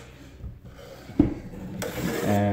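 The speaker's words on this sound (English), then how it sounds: "I'm using a curved 12-inch trowel" Curved 12-inch drywall trowel scraping joint compound over tape on a wall by hand, a short close rasping drag with a sharper scrape in the middle and no voices.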